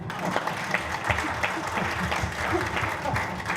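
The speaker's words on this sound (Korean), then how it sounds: "좀 불쌍하면 박수 한번 쳐주세요" An audience claps steadily at a Korean political party event, a dense, even wash of applause from a crowd that carries on throughout without pause.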